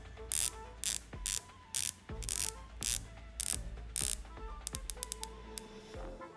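A dive watch's rotating bezel clicks in quick ratcheting bursts, crisp close-up detents in uneven groups, ending with a faster run of small clicks in a quiet room.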